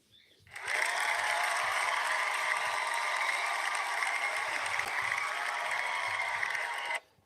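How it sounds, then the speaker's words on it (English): A crowd cheer and applause effect plays during a livestream, starting abruptly and holding as a steady, dense wash for about six seconds before cutting off sharply, with no talking over it. "Let's give all y'all early birds a cheer."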